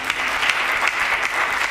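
Audience at a Hindi kavi sammelan poetry recital clapping, a dense burst of many hands applauding steadily for a moment, close and fairly loud with no talking.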